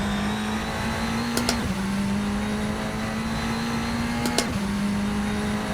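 A light race car with a four-cylinder engine drones steadily at high revs in a sim racing game, with two quick upshifts marked by brief pitch drops, and no voices.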